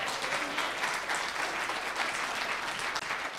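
A church congregation claps their hands together, a sustained dense round of applause filling the room at even volume, with no one speaking over it.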